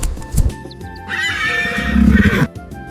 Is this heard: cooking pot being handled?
no